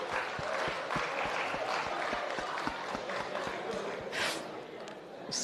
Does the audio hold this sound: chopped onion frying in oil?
no